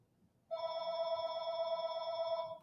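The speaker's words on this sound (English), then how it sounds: "I apologize for the phone." An old landline telephone at a parents' home in the woods rings with a sustained electronic bell tone that starts abruptly and holds steady for about two seconds, clear and moderately loud in a quiet room.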